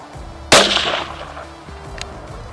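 A single loud rifle shot from a Merkel K5 single-shot rifle cracks sharply and close by, then decays into a short echoing tail, with a faint metallic click from the action shortly after.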